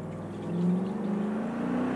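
Chevrolet SSR retro pickup with a V8 engine accelerating hard from standstill to 100 km/h uphill, a steady low engine drone that rises in pitch and loudness as it pulls, heard from inside.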